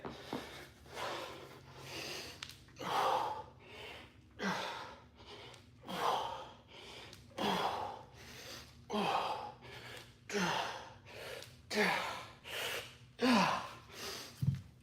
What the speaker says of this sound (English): Hear me breathing and talking?